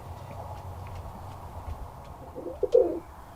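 Birmingham Roller pigeons coo softly at close range over a faint background hum, with a louder, throaty coo swelling near the end.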